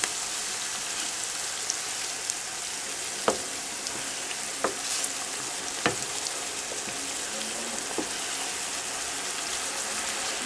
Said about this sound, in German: Und lasse es so ein bisschen aufköcheln